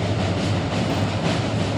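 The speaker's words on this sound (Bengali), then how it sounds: "এই দেখো ট্রেনটা আসছে" A train runs along the railway near the Gulma bridge through forest, a loud continuous rumble with a dense low roar that holds steady the whole time, and no talking.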